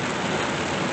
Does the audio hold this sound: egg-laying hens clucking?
no